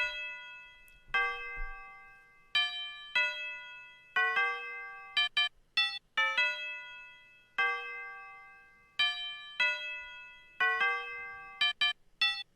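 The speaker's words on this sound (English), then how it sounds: "And then lastly, we have the bell. So this is what that's going to sound like on its own." A synth bell from a beat plays its melody alone: clear, ringing bell-like notes in short phrases, some quick repeated hits, each tone decaying cleanly over near-silence.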